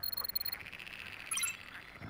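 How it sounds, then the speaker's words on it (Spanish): Frogs croak faintly in the video game TERAVIT: Warrior of Hope, a few quick, soft pulses at the start followed by a quiet, continuous ambient chorus with a brief chime-like sparkle midway. "Se oyen rana"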